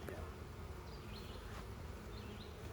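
Honey bees hum at an open hive during a beekeeping inspection, a dense, steady buzz that fills the whole moment, with a few individual bees whining past close to the microphone.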